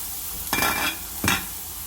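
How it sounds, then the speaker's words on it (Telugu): Carrot onion uttappam frying in a pan, a steady low sizzle with two short bursts of louder scraping or stirring about half a second apart, close and clear with no talk. "మూత పెట్టి 2 మినిట్స్ నుంచి ఫ్రై అవుతుంది"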